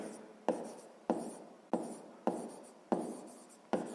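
A pen writes a sixth-grade math exercise by hand, with close, quiet scratchy strokes that repeat about every half second in an even rhythm, and no talking.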